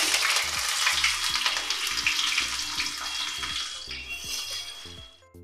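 Chopped onion fries in a pan with cumin seeds and bay leaf, making a loud, busy sizzle with some stirring. Soft music plays beneath it, and the sizzle fades and cuts off near the end.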